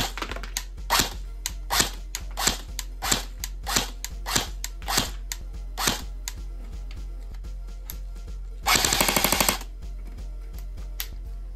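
An airsoft HK 416 or Colt CQBR M4A1 rifle fires single semi-auto shots, a sharp snap roughly every half second, then a brief rapid burst near the end over a steady low hum.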